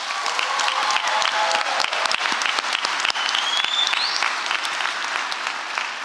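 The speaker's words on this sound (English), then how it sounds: "parents, if you are happy for your graduate, let me see you clap your hands." Parents at a Houston school graduation ceremony for the class of 2025 clapping together, a dense, sustained wash of applause from a large crowd filling the hall evenly throughout.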